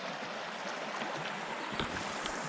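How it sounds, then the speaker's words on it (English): Creek water rushes and burbles in a steady, broadband wash, close and continuous throughout the short stretch. "There's the water, I heard."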